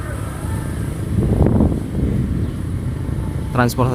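Engine of a Mitsubishi Colt L300 transport vehicle, a steady motor rumble with a swell of rising revs midway and a brief high tone near the end.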